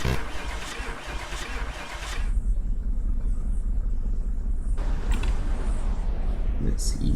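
A car engine runs steadily in Car Mechanic Simulator 2018, with a continuous low rumble that grows slightly louder and denser after about two seconds and holds to the end.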